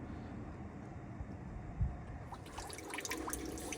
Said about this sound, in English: Flushing out a cooling system on this engine that didn't have coolant in it, only had water